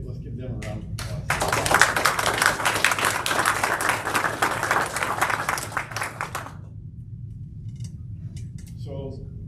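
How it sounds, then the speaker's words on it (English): Staff are applauded at a tribal council meeting announcing a federal grant. After brief voices, a loud burst of dense clapping runs for about five seconds, then cuts off, and a little speech and stray sounds follow. "Let's give them a round of applause."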